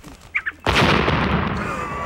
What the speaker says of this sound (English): What the heck am I doing hunting quail with a cannon?